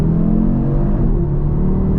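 A 2025 Audi RS3 Carbon Black with quattro all-wheel drive accelerates hard uphill, its engine note loud, close and continuous as it pulls, with no talking.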